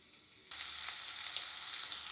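Chopped vegetables for noodles hit a hot pan after a moment of quiet, then sizzle loudly and steadily, with brief crackles as they fry.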